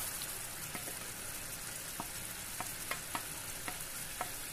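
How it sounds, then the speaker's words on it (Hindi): Chicken pieces fry in spiced masala for butter chicken, a soft continuous sizzle broken by light scraping clicks as a spoon stirs the pan at intervals. "तो अभी हम ये भूनेंगे मसाला, इसी मसाले में हम अपना डाल देंगे ये चिकन।"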